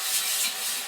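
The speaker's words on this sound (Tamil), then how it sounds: "கொஞ்சம் நல்லா கலந்துடணும்." Eggplant pieces are stirred and mixed in a pan for vangi bath, a brief soft scraping and rubbing sound, fairly quiet and close.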